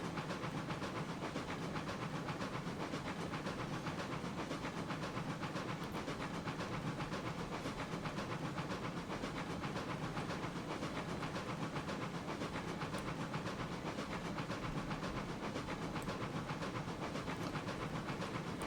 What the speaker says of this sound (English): It's a locomotive.